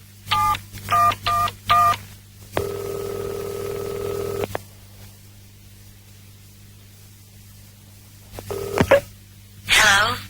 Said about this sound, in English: I'll dial again.